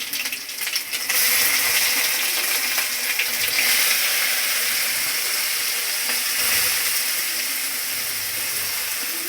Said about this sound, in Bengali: তেল গরম হয়ে গেছে, এবার আমি মশলাগুলো তেলের মধ্যে দিয়ে দিচ্ছি।